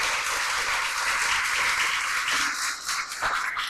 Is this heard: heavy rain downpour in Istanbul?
no